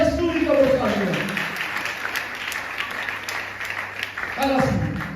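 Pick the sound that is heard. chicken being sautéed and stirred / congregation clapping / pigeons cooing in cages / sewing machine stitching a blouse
congregation clapping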